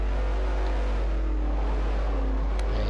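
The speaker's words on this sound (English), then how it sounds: "he sounds like he's missed a gear there coming through that corner" A V8 Supercar engine in the racing game Forza Motorsport 4 drones steadily at high revs, loud and continuous, with shifting pitch as the car hesitates on a gear through a corner.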